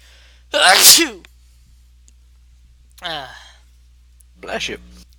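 Loud sneezes burst out close by, one sharp sneeze followed by two smaller ones spaced a couple of seconds apart.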